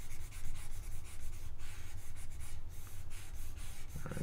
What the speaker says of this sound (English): let me erase this to make some space.